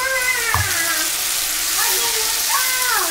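A spice paste of ginger, garlic, onion, green chilli, tomato and cumin sizzles steadily and loudly in hot oil, hissing continuously while someone talks over it.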